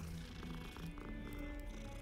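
A cat in the video game Hogwarts Legacy purrs softly and steadily beneath a low game soundscape with faint sustained tones.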